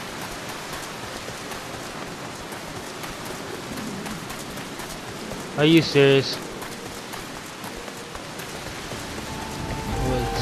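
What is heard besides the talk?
rain in video game Final Fantasy XIV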